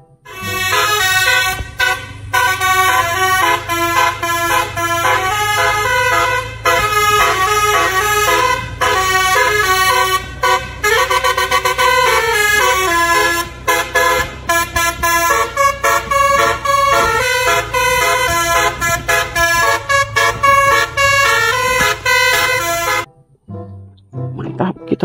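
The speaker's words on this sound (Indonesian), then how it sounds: "Wah, yang ini ada bus SCM Trans Ratu Mahir" An SCM Trans bus passes and sounds a loud, melodic multi-tone horn, sustained tune-like honking that keeps going almost without a break before stopping abruptly near the end.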